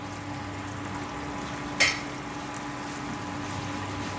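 Small koi fish frying in a generous amount of oil make a steady, even sizzle with a single brief clatter partway through, close and moderate in level, without talking.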